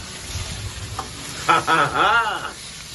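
Squid sizzles in hot oil in a wok stirred with a ladle, a steady close hiss running throughout while a voice speaks briefly over it.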